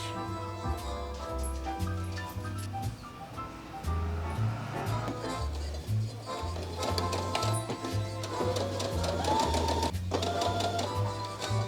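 A sewing machine re-sews a seam on a summer top, its needle thumping in a steady pulsing rhythm with short pauses, while music plays along over it.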